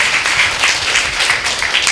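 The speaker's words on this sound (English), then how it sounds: "give them a big round of applause" An audience at an educational institution's panel event applauds with dense, steady clapping for a couple of seconds, loud and close.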